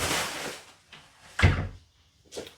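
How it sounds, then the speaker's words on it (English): A door closes indoors two rooms from a wireless microphone, giving a muffled thud and latch click between softer shuffling sounds, heard faintly at a distance. "let me close this door"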